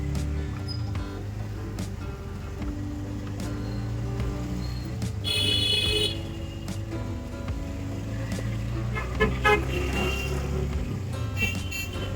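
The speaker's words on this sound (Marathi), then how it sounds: "मित्रांनो ट्रॅफिक बघू शकतो सकाळ सकाळ किती झालेलं आहे" Continuous morning street traffic hum in Mumbai near CSMT with engines rumbling, a horn blaring briefly midway and a few more short toots later.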